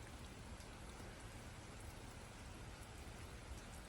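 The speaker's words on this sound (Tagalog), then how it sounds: "Talagang biglang umulan dito sa amin." A sudden rain shower falls as a steady, dense wash of hiss with faint drop patter on surfaces, constant and unbroken throughout, with no voices.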